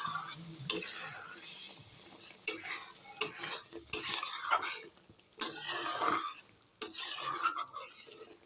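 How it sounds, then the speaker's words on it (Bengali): A spoon stirs chicken varta with egg in a hot pan, giving repeated scraping and clinking strokes in uneven bursts over a steady, close sizzle of frying. "এবার একটু নেড়ে চেড়ে দিই।"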